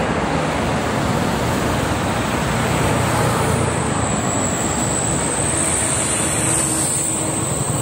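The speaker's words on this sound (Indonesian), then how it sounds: "Ini ada mobil." Cars stream along the Jakarta–Cikampek toll road in the afternoon, a loud, unbroken roar of tyres and engines with a rising whine from passing vehicles and no voices.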